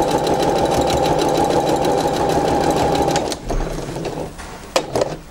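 A sewing machine stitches fabric while piecing a patchwork Churn Dash quilt block, running in a loud, steady mechanical whir for about three seconds before stopping, then giving a few brief clunks and taps.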